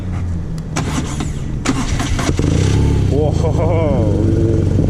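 A 2019 BMW R nineT Urban G/S motorcycle engine runs steadily up close, with a deep rumble that rises as it revs, and someone talks over it.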